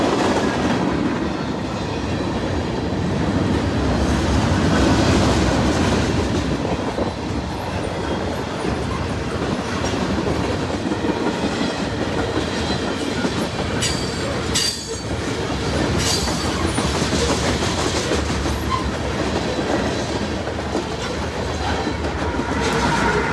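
Freight train M200 rolling past in Ohio with a DC locomotive leading and two mid-train DPUs, a loud continuous rumble and clatter of cars with bursts of wheel squeal, close by and with no voices.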